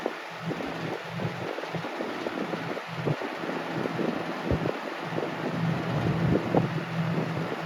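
A 1998 Lasko 3733 electric fan runs on its high setting, giving a steady, close whooshing roar of moving air that stays even throughout.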